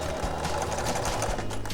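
A sewing machine runs steadily, stitching across fabric to secure cording inside a skinny fabric tube, with a close, continuous mechanical whir and no voices.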